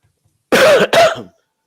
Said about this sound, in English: Sorry, everybody, with the cough.